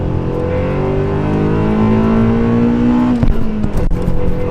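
A Honda Civic Si EM1 engine is opened up to full throttle, its loud, close revving climbing steadily in pitch into VTEC before a sharp break and shift near the end, with no voices.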